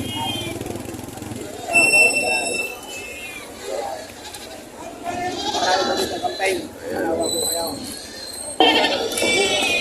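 Goats bleat repeatedly at a livestock market in Padre Garcia, Batangas, with several loud, wavering cries rising over a busy background of voices and a faint passing engine.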